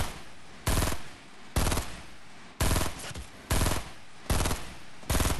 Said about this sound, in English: This guy's getting shot from three different angles.